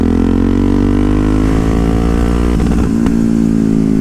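A Yamaha MT-03 motorcycle pulls hard in fourth gear from 3000 RPM. Its loud, close engine note climbs smoothly in pitch for several seconds before a brief shift-like break near the end.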